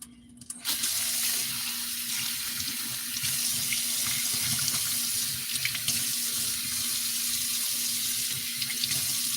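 Dishes are washed under a running kitchen sink tap, a steady loud rush of water that starts abruptly and continues evenly throughout.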